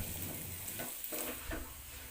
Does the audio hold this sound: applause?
no